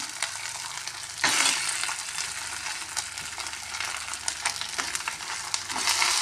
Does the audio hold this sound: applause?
no